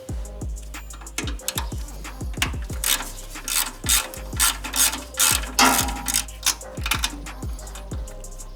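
A ratchet wrench works an 8mm nut off the alternator of a VW Bug engine, giving rapid close clicking bursts in repeated strokes with brief pauses and scraping between them.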